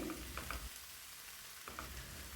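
Drumstick leaves being stirred in a pan over a low flame, a soft sizzle with a few scraping stirs near the start and again near the end, fairly quiet with no talking.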